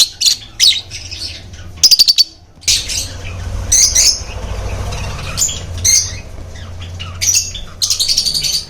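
A pair of budgerigars, a Kimino pair kept for sale, chirp and squawk in quick bursts close by, with sharp repeated calls and short chattering runs over a low steady hum.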